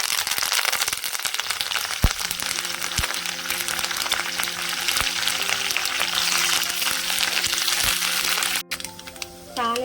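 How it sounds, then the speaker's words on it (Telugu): A Telangana tempering of curry leaves, garlic and dried red chillies crackles and sizzles in hot oil. The hiss is dense and steady, broken by sharp pops and occasional spoon scrapes, and a voice speaks briefly near the end. "తాలింపు వేగిందండి"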